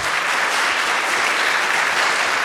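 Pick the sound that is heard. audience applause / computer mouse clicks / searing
audience applause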